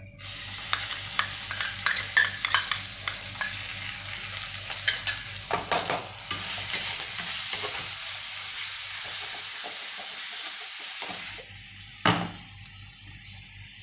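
Small fish fry in a pan with mustard paste, a loud continuous sizzle with stirring scrapes, then a brief lull near the end before a final clatter.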